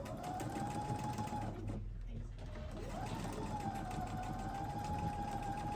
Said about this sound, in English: I have my machine set at a scant 1/4 inch. And I'm going to go ahead and sew this on.